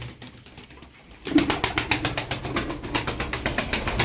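Tumbler pigeons coo in a rapid, regular series of throaty pulses that start abruptly after a quiet moment. The calls continue close and fairly loud with no talking.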